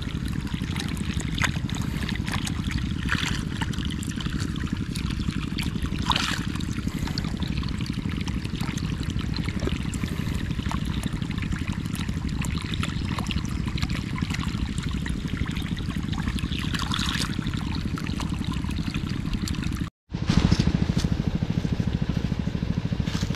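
Water from a small garden hose runs steadily at low pressure, a continuous even trickle and splash that holds for the whole stretch with only a brief dropout near the end.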